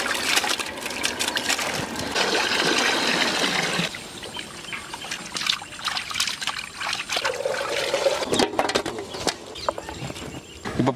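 Raw chicken is washed by hand in water, with close, irregular splashing, trickling and dribbling that swells and fades in uneven bursts.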